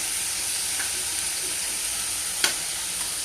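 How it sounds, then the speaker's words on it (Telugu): Ivy gourd fry curry is stirred in a pan over low heat, giving a soft, steady sizzle with one brief scrape of the spoon against the pan. "సిమ్లోనే పెట్టుకుని కలుపుకుంటూ ఉండాలండి."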